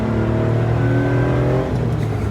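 A three-cylinder engine in an 1980s hatchback runs close by, a steady low throbbing hum with a slight rise toward the end, with no talking.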